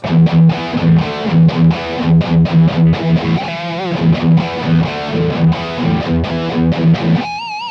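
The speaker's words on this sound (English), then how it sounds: "I'm doing it just like here on the guitar to get that cool heavy metal sound like this." Heavy, distorted electric guitar hammers out chugging power chords in a fast rhythm, loud and close, with a brief ringing bend in the middle.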